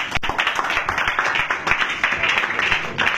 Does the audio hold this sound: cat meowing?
no